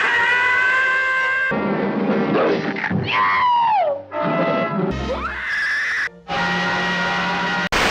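A cartoon cat's loud, drawn-out scream as in the Tom and Jerry cartoons, a shrill wailing cry that sweeps up and down in pitch and fills most of the stretch, alone without talk.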